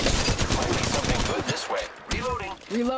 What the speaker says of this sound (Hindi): मुझे सामने से फायरिंग की आवाज़ आ रही थी